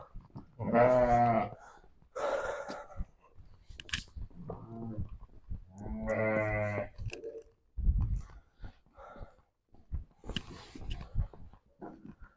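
Sheep bleating in bursts of several wavering calls at varying distances, with clicking and chewing sounds between them.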